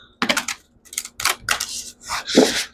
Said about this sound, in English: Okay, that didn't shuffle so well.